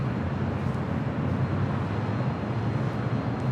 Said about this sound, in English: Next takeoff here on the north side. Delta Airlines Flight 2074 heading to Minneapolis.